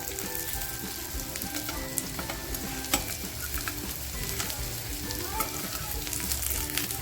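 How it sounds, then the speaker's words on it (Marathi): Kothimbir vadi, soft coriander and gram-flour cakes, frying in a pan until browned on both sides, a steady close sizzle with light crackles and occasional clicks of turning, fairly quiet, no voices. "मस्त फ्राय करून घ्यायची बघा आपली वडी छान फ्राय झाली दोन्ही बाजूनी"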